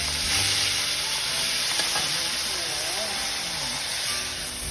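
Fish sauce sizzles and hisses loudly in a hot pan just after frying carp, a steady close crackle lasting throughout, with light stirring.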